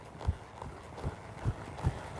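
A horse trotting in an arena during a lead-change exercise, its hooves striking in a steady clip-clop rhythm of four distinct, fairly close beats over quiet background.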